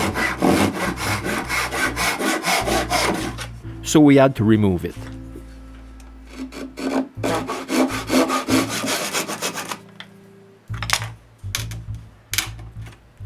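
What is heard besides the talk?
hand sawing a wooden chair rung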